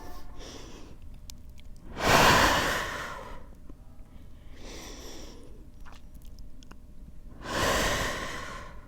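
Two deep breaths during a prenatal yoga class, each a long, audible inhale and exhale heard up close, spaced several seconds apart with quieter, fainter breathing in between.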